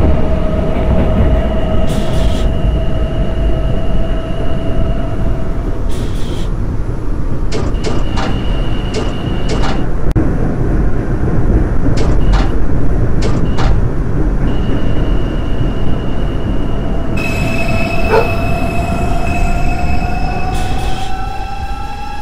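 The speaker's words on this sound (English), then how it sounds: "This is a Pelham Bay Park bound 4 train." An R142 subway train on the 4 line runs steadily between stations in the OpenBVE simulator, a constant loud rumble with rising motor whine and brief high squeals and clicks, no voices.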